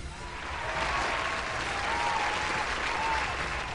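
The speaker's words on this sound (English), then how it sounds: "can I get a round of applause?" An esports tournament audience claps and applauds loudly during a StarCraft match, a dense, sustained burst of clapping that swells and holds for a few seconds.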